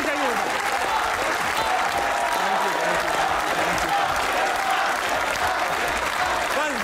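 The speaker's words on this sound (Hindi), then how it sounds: "तालियां बजती रहनी चाहिए।" Studio audience applause fills a comedy talk show set as a cricket bowler walks on, steady dense clapping at full volume throughout with cheers and voices mixed in.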